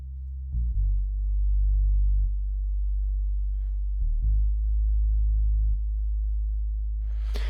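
A soloed synth bass line from a Cubase song project plays alone, deep sustained low notes held for a second or two each and changing pitch a few times, loud, clean and smooth.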